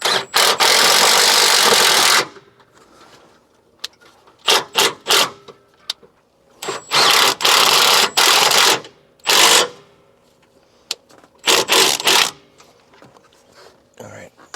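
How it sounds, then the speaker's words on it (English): Impact wrench tightening transmission mount bolts on a 2007 Ford Edge 3.5L, heard in several loud, close bursts of rapid hammering, some long and some short, with quiet gaps between them. "I'm going to go ahead and use my impact on these."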